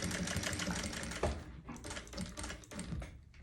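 Sewing machine stitching fabric for a pet backpack: a rapid, close mechanical rattle of needle strokes in short runs, with brief pauses and a clunk partway through, quiet overall and without speech.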